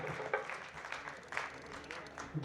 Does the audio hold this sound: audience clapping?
yes